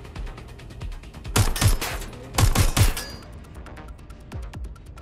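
Bursts of gunfire from the video game Watch Dogs: Legion, with two loud clusters of rapid shots amid quieter background game sounds.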